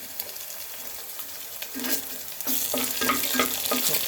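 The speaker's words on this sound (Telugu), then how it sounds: "ఇప్పుడు కొద్దిగా జింజర్ గార్లిక్ పేస్ట్ వేసుకున్నామండి" Ginger garlic paste frying with browned onions and cashews in a pan, a steady close sizzle with a spoon stirring in bursts of scraping clatter, growing busier toward the end.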